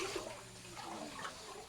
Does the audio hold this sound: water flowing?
yes